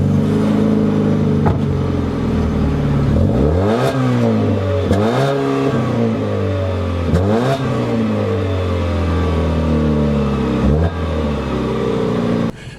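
A 2016 Fiat 500X front-wheel-drive engine revs repeatedly climbing an off-road hill, rising and dropping in pitch as it strains, with gear shifts and clattering; no talking, loud and close.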